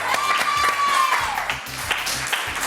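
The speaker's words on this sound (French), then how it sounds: "on applaudit très très fort" Studio audience applause on a French television news show, a steady wash of clapping under a rising whistle-like tone at the start, continuing evenly throughout with some speech mixed in.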